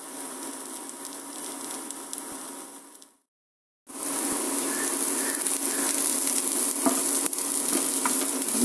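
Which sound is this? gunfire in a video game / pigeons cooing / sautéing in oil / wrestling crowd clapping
sautéing in oil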